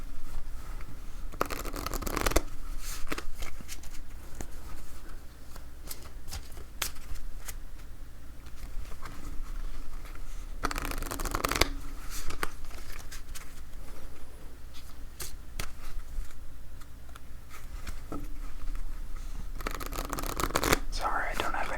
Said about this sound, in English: you can just enjoy the shuffling sounds